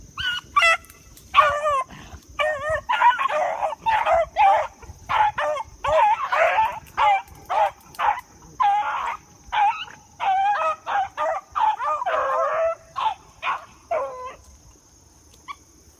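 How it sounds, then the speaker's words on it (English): A young hunting dog, about a year old, bays loudly and repeatedly in an early-morning setting, with close, rapid bursts of cries and yips in an uneven rhythm that continue almost without pause. "That big mouth dog, that's Preacher."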